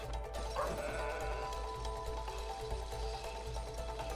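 A single sheep bleat from the video game It Takes Two rises briefly over a steady bed of game music and ambience, faint and short.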